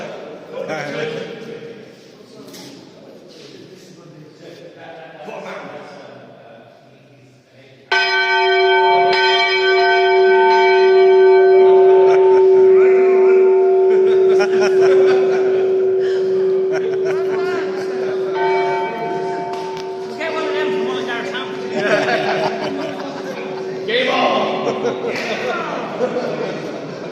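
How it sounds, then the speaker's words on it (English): A new church bell rings out after a short stretch of talk, its loud sustained tone ringing on and slowly decaying while people chat and laugh quietly alongside it. "if you want to ring the bell, go ahead"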